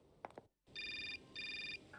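A telephone ringing in the video game Syberia, two bursts of warbling electronic trill separated by a short pause, following a few brief knocks.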